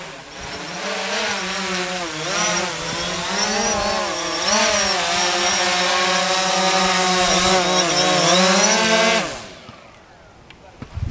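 DJI Phantom 4 quadcopter drone hovering and coming in to land, its steady high-pitched propeller whine and buzzing rotor harmonics shifting in pitch as it manoeuvres, loud and close, then cutting off abruptly near the end as the motors stop.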